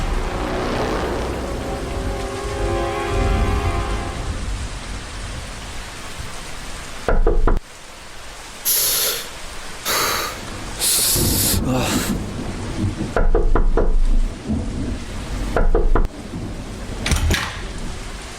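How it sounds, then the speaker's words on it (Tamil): Sudden rain pours down in a forest with a dense, steady hiss. The downpour is interrupted by abrupt cuts and loud bursts, and a voice is briefly heard early on. "சடனாக மழை வந்துடுச்சு."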